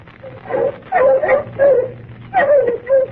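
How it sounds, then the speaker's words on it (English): Bloodhounds in a radio drama scene give short whining yelps and whimpers in uneven bursts, close and fairly loud, over a faint low background with no talk. "What's the matter with the dogs"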